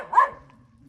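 A dog gives one sharp, close bark near the start, then falls quiet against faint background noise with no talking.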